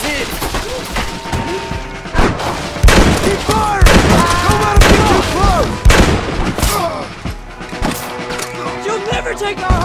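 Gunfire in the Red Dead Redemption video game, bursts of shots crackling through a busy battle mix alongside shouting voices and music-like tones, loud and dense throughout.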